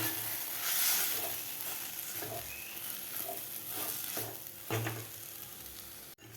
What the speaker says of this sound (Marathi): बटाटासुद्धा आपल्याला एक ते दोन मिनिट परतून घ्यायचा आहे खालच्या मसाल्यामध्ये